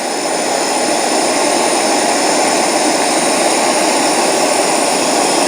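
A torch heating small steel parts to cherry red or light orange for hardening gives a loud, steady, close roaring hiss that continues without a break.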